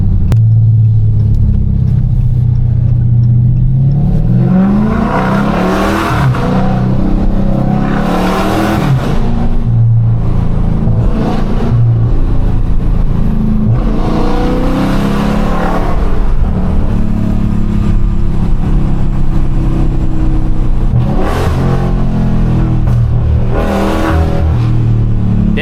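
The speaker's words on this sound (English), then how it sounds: "Downshift sound like something crazy, boy." A Dodge Charger Scat Pack with no hood roars close and loud, its engine revving hard and blipping through downshifts in repeated surges over a constant low rumble for the whole stretch.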